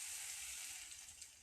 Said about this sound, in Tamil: ஸ்டவ் ஆன் பண்ணி ஆயில் ஹீட் பண்ணிக்கோங்க. என்கிட்ட இந்த மாதிரி கரண்டி இருக்குது, இதில் ஊற்றி நான் பொரிச்சு எடுத்துக்கிறேன்